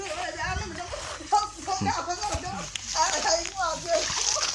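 Water splashing and sloshing at a hand-dug water source, a few irregular splashes close by, mixed with children's voices and speech around it.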